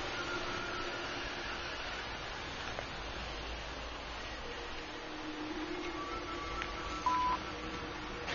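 A cell phone being dialed gives one short, faint electronic keypad beep near the end, set against a steady hiss of background noise.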